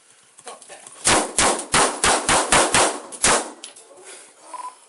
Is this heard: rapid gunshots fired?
yes